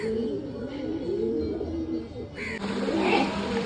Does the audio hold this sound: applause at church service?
no